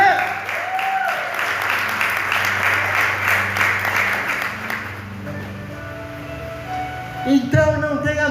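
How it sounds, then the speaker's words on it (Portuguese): A crowd claps and applauds steadily for several seconds, the sound fading slightly before a brief burst of other noise near the end. "Pode aplaudir"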